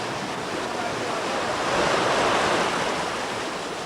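Ocean waves break on a rocky shore in the Chinijo Archipelago of the Canary Islands, making a continuous broad roar of surf that swells slightly in the middle.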